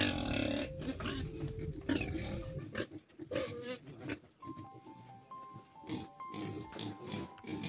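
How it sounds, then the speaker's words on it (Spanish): Pigs on a pig farm in Los Cacaos de Tamboril, Santiago, grunt and squeal repeatedly up close, with a person talking through parts of it. "Crianza de cerdo"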